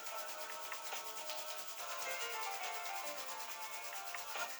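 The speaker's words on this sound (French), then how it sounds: "on chauffe les mains. Très fort, je frotte" Vigorous, continuous friction of palms rubbed together to warm them during a self-massage session, a steady close rasping with no pauses.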